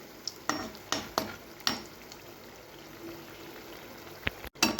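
Bread pieces frying in a pan for bread halwa, a steady hiss of sizzling with several sharp crackles and clinks of stirring, close and fairly faint, no talk.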